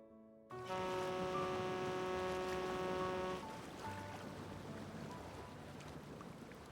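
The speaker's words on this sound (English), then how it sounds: "Let's wait for the rain to stop." Steady rain in a video game scene, a dense continuous hiss that starts abruptly with a sustained tonal music or ambience layer over it, then continues as softer even rainfall.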